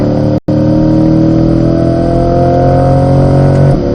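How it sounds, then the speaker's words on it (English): A Chevrolet C8 Corvette at full throttle on a track straightaway during an autocross school, engine droning loudly and steadily with rising pitch, a brief gap near the start as it shifts up, then pulling hard again. "Roll to full throttle on the front straightaway here, up to 4th, then up to 5th."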